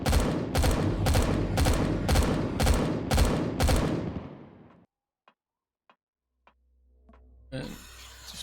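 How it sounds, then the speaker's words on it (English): Guns in the space survival video game Empyrion Galactic Survival fire a rapid burst of about eight evenly spaced, loud, close shots. Silence follows, broken by a few faint ticks, then a low rumble and a noisy burst. "Okay, the guns are still going."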